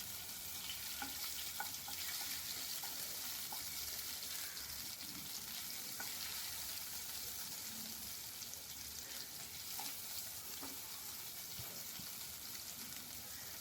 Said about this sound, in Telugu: ఈ నూనె వేడెక్కిన తర్వాత 1 స్పూను అల్లం వెల్లుల్లి పేస్ట్ని పచ్చి వాసన పోయేంత వరకు ఫ్రై చేసుకోవాలి.